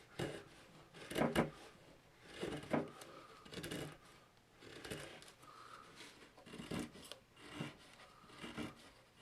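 A Condor Barracuda knife whittles wood for fine shavings, giving a series of close, dry rasping scrapes in short strokes separated by brief pauses.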